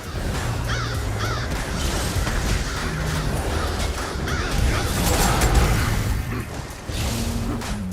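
Crows caw repeatedly from a Plague of Crows area ability in a fantasy action video game, set amid a dense, steady wash of battle effects, whooshes and low rumbles.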